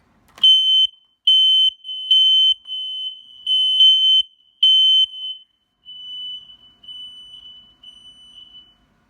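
A home smoke alarm under test emits a series of loud, shrill electronic beeps in short bursts, followed by a longer steadier tone, with nothing else heard.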